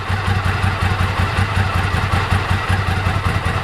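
A Ducati ST2 motorcycle engine idles close by, a loud, steady chugging rumble with even rhythmic pulses and no voices.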